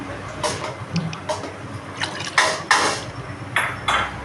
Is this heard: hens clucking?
no